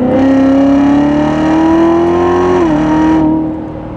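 A Corvette C7 sports car engine revs hard and loud up close, a sustained rising growl that holds, dips slightly, then drops away as the revs fall.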